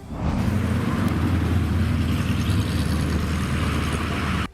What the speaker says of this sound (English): Starting off at number 10, we have the 1967 Ford GT40 Mark III.